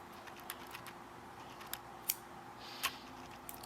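Scissors snip crochet yarn in a quiet room, making a few faint, sharp clicks spaced apart.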